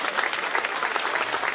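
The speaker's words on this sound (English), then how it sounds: "Let's give these three young ladies a big round of applause." Brief, lively audience applause rings out at a 4H barrow pig show at the 2024 Shelby County Fair, brisk and continuous for its short span.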